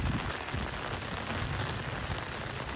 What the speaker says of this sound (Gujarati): ગાજ વીજ સાથે છે ને વરસાદ પડે